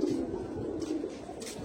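Pigeons coo softly in a loft, low rounded calls repeating through a quiet background with no voices.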